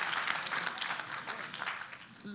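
Audience applause at a live speaking event on storytelling, a dense wash of many hands clapping at moderate distance, steady throughout and fading slightly at the end.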